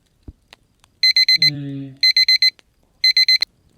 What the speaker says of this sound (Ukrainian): Клятий будильник.